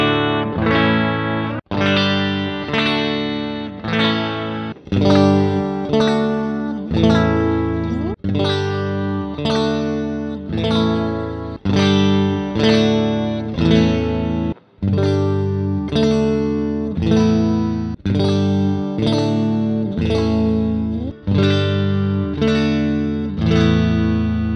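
A Stratocaster electric guitar is strummed in repeated chords, each ringing out before the next, as the pickup selector is switched through different positions, loud and close with effects-like coloring and no talking.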